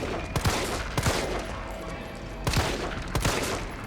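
Gunfire from Resident Evil 3 Remake on PC: four sharp, loud shots land in two pairs about half a second apart, separated by a short pause, over a steady bed of game noise.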